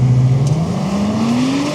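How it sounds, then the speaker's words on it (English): A 2027 Audi RS5 Avant accelerates, its engine note climbing steadily in pitch as it pulls hard, close and loud throughout with a brief whoosh partway through. "2027 Audi RS5 Avant"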